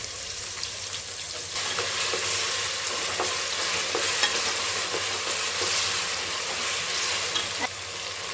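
Ginger garlic paste sautéing in a pan, a steady close sizzle and frying hiss with occasional stirring scrapes, continuous throughout with no talk.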